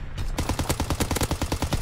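Rapid machine gun fire from a bomber's ball turret in a World War II shooter game, a fast, loud, continuous burst of evenly spaced shots starting after a brief moment.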